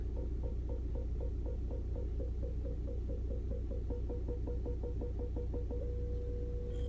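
Parking sensor chimes in a 2017 MINI Cooper S Seven Edition, rapid evenly spaced beeps that merge into one continuous warning tone near the end when the car is too close, over a low steady cabin hum.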